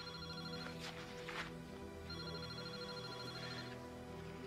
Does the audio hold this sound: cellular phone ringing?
yes